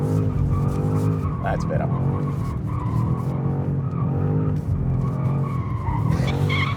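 A new BMW M5 switched to rear-wheel drive skids with a sustained tyre squeal over a loud, steady engine roar, and someone speaks briefly over the noise.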